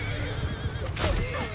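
A horse whinnies in Mount & Blade II: Bannerlord amid a battle, a shrill wavering neigh rising over the churning din of hooves and fighting, with someone talking over it.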